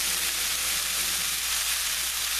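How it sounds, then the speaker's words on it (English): Steady, close sizzling of ruby red jasmine rice and fresh corn sautéing in a pan, a dense continuous crackle with no voices. "As long as you hear that sizzling sound, well, you know you're sauteing."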